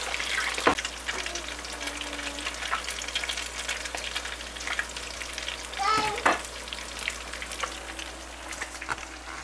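Egg rolls fry in hot grease in a pan with a steady crackling sizzle up close, occasional pops and a louder burst of spattering partway through.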